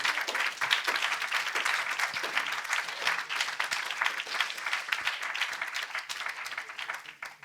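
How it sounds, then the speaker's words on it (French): Sustained applause from an audience at the closing ceremony of the iDoc Santé health challenge, dense rapid clapping filling the room steadily and then tapering slightly at the end, with no voices over it. "on peut vraiment applaudir toutes les équipes et les féliciter"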